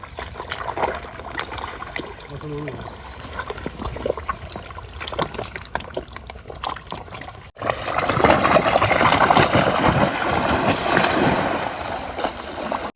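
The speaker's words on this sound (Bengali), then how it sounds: "চলো আগে ঝটপট করে নৌকাটা নামিয়ে নিই" A boat is pushed down into the Herebhanga river. Scattered bumps and scrapes come first, then a sudden louder, sustained rush and splash of water takes over for the last several seconds.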